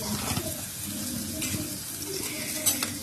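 Chopped onions with salt fry in a pan with a continuous close sizzle, while a spoon stirs them in soft, intermittent scrapes and one brief clatter near the end.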